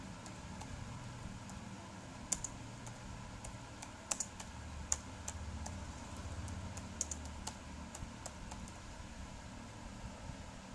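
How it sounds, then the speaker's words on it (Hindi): Someone types on a Windows 10 laptop keyboard into the search box, giving quiet, irregular key taps over a faint fan-like hum. "आप direct type hair to search में network and sharing centre type करके ओपन"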